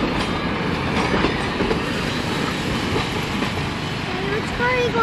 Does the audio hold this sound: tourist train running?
yes